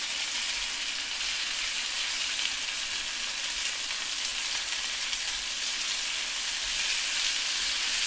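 Kalonji-seasoned lamb chops, just flipped on a hot grill, give off a loud, steady, unbroken sizzle up close, with no talking.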